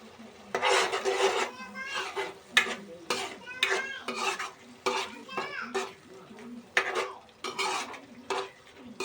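A spoon scrapes and stirs egg curry masala and garam masala in a hot pan, sizzling softly, with rapid, rhythmic strokes that come in bursts and short pauses, loud and close.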